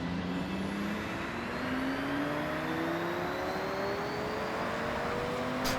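A car engine in Forza Horizon 6 drones steadily while driving through Tokyo, its pitch climbing gradually as it accelerates, loud and continuous with no voices.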